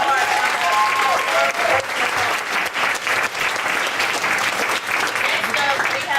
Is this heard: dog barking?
no